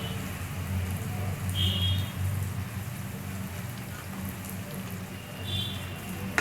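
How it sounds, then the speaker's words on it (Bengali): Ginger and garlic paste fries in a pan with melted tomatoes for a chicken liver dish, making a continuous even hiss like light rain, moderately close, with no talking. "ভালো করে মিশিয়ে নেব যতক্ষণ না কাঁচা আদার গন্ধটা চলে যাচ্ছে ততক্ষণ আমি ভাজতে থাকবো এটা"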